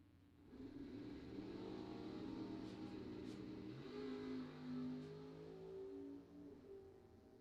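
Drag race cars, including a Mopar, launch and accelerate down the strip, engines rising in pitch as they pull away, a sustained moderately distant roar with shifting tones and no talk over it.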